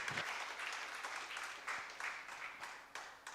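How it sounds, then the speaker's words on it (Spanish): A church congregation applauds during a Spanish-language sermon, a brief burst of moderately distant clapping that swells and then trails off. "Dele un aplauso al Señor"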